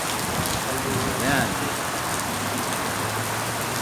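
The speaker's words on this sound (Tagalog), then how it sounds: "Malakas na ulan ang Bisan." Heavy rain pours at night in Jizan, Saudi Arabia, a loud, steady wash of falling water and splashing, with a brief low voice and a faint passing vehicle hum in the background.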